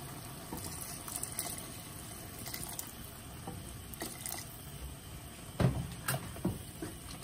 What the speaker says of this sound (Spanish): Le voy a agregar una poquita de agua